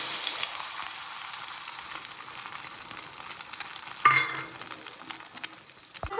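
An egg fries in oil in a wok, giving a steady close sizzle and crackle. A brief utensil clatter comes around the midpoint, and a sharp knock follows near the end.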